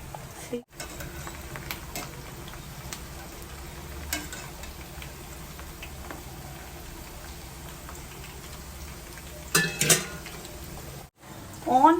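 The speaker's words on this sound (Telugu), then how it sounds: "నెక్స్ట్ మనము ఫ్రైడ్ ఆనియన్స్ చేసుకుంటున్నాము" Onions frying in oil for chicken biryani give a steady, moderate sizzle throughout, with a few brief clatters and stirring bursts near the end.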